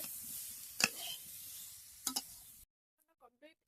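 A pot of soybean and potato curry being stirred, a low steady simmering sizzle broken by two sharp spoon knocks against the pot, then a few faint clinks after the cooking noise cuts off.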